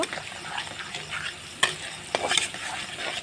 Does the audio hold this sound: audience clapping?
no